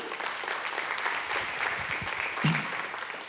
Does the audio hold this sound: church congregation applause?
yes